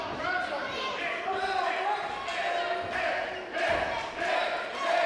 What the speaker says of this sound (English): Listen to this crowd going wild for Nick Robles.